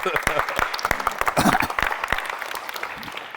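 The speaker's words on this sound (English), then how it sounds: "Give them a round of applause, fellas." A small group of basketball players at a shooting workshop applauds, scattered individual claps crisp and close, fading slightly toward the end, with faint voices mixed in.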